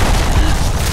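A wall blown up in a Roblox battle game, a dense, loud burst of booming blasts filling the whole second with continuous low rumble and crackle.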